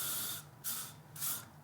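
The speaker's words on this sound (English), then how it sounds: "So I'm just gonna spray like a little bit of this" Classic hairspray hissing from an aerosol can onto hair, set for light to medium hold; two or three close, bright bursts, each under half a second, with short pauses between.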